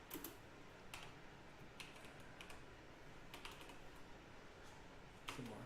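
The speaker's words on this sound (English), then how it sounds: "I got the clickiest clacky keyboard in the history of clicky clacky" Rapid, quiet typing on a clicky mechanical keyboard in a close, hushed indoor setting while coding, with uneven bursts of crisp key clacks and a few louder strikes, no speech.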